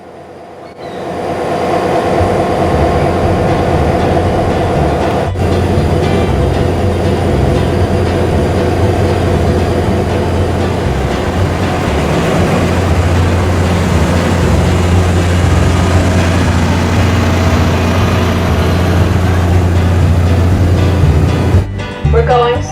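A Cape Cod Central Railroad passenger train rolls slowly through a rail yard near Hyannis, its loud, steady rumble carrying rhythmic wheel clatter and a low droning hum throughout, with a brief pause in the noise near the end.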